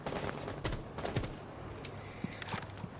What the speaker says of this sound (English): a real quick tap fire or just a real quick burst fire